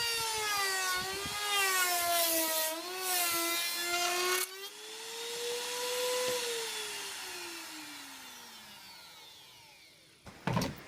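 A router on a router table trims laminate veneer edge banding, its motor whine gliding up and down in pitch and then slowly spinning down. A short, sharp clatter of the tool comes at the very end.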